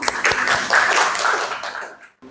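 A short burst of applause from a small group, close and lively, fading out after about two seconds.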